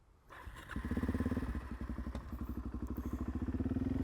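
A motorcycle engine idles, then rises into a steady pulsing chug as throttle and clutch are eased out and the bike rolls slowly, with rhythmic loud exhaust beats and a few mechanical clicks.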